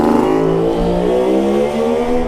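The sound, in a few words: classic Kawasaki motorcycle passing by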